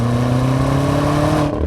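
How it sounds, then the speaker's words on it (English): Deep, growly exhaust from a 2020 BMW X5M Competition holds a loud, steady rev close by, then drops off abruptly near the end with a short low burble; no speech. "It's a nice deep growly tone"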